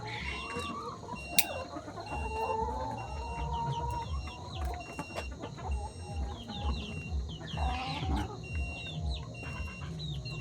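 Laying hens on an integrated poultry farm cluck and chatter continuously, many birds overlapping close by in a busy barn chorus, with occasional louder squawks and a brief crow-like call.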